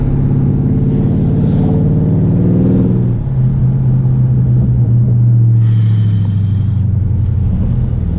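A straight-piped Dodge Charger Scat Pack blares with a loud, deep exhaust rumble, its pitch rising and falling through revs, with sharp crackles near the end and no voices.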